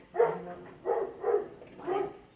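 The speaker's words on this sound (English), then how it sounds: "Because the dog doesn't normally bark." A dog gives four separate barks in a steady, evenly spaced series. They sound somewhat muffled and moderately quiet, with no voices.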